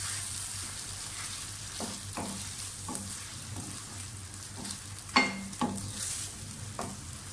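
Onion fries in a pan with garlic ginger paste, giving a soft, steady sizzle broken by periodic scraping strokes of a spoon, with a couple of sharper clinks late on.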